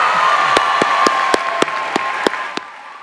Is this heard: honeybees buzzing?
no